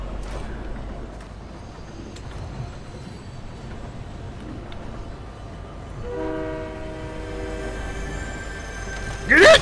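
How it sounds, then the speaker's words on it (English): A train in Fortnite approaches with low rumbling and wheel clatter, then sounds its horn in strong sustained tones over the last few seconds, building to a loud burst at the end. "Oh, somebody's on the train!"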